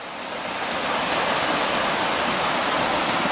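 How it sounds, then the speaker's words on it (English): Water swirls in a small whirlpool on a river, a steady full rush of broadband turbulence that swells slightly after the start and holds loud and close, with no voices. "Nice little whirlpool."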